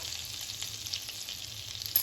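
Butter melts into hot oil in a pan, producing a soft, steady sizzle and crackle up close, with a small clink near the end and no voices.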